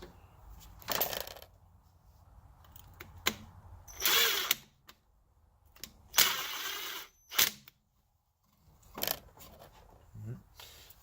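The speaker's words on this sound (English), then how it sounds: "I'm going to use my electric drill for this." An electric drill driving screws into an outlet box cover buzzes in short, separate bursts with quiet gaps between them, fairly close and moderately loud.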